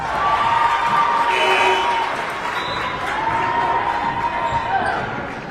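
Home crowd at a Braintree High School boys' basketball holiday tournament game cheers and applauds loudly during late-game free throws, a sustained roar with whoops that peaks early and stays strong throughout.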